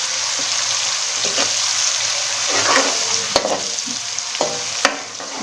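Chana pulao ingredients fry in a pot with a steady, close sizzle, while a spoon stirs through them and makes occasional sharp clinks against the pot.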